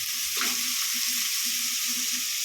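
Carrots are tossed into a hot frying pan for semiya, and a loud, steady sizzle follows, with rhythmic scraping of a spatula stirring them close by.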